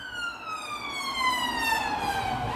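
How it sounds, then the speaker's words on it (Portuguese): An ambulance siren wails steadily, its rising and falling tone sweeping on, loud and fairly close, over low traffic rumble throughout. "A ambulância."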